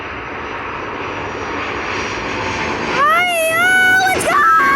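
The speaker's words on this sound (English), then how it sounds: "This looks like a Hong Kong Airlines from Hong Kong to Vancouver. This plane is so big." A large Hong Kong Airlines airliner lands at Vancouver International Airport, its engine roar loud and steady, then turning into a rising, whining engine tone, with a voice or cry briefly audible near the end.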